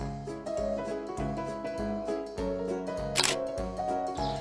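A single quick shutter click from a phone's 13-megapixel camera snapping a photo, briefly cutting through steady background music playing throughout.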